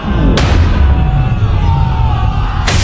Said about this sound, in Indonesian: Ledakan sihir kembali terjadi.